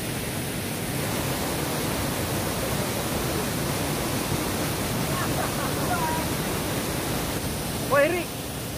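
Constant roar of a waterfall at a curug, a dense broadband rush filling the scene, with brief faint voices and a short whistle-like call near the end.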